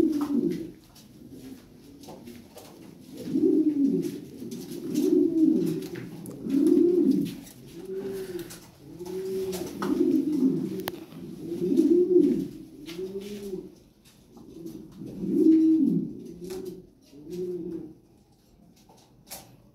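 Lahori pigeons coo over and over in a steady, rhythmic chorus of deep, rolling calls, close and clear with no voices.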